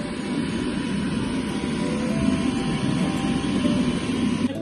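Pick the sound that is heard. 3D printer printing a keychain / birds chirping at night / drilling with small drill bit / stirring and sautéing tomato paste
3D printer printing a keychain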